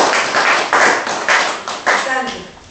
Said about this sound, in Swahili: Tujipongeze kwanza kwa makofi.